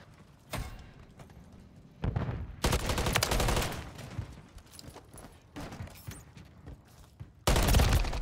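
Gunfire in a Call of Duty: Modern Warfare III ranked match, with bursts of automatic shots and single cracks separated by quieter stretches, fairly close and loud.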